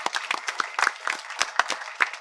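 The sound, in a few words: audience applause at a film launch event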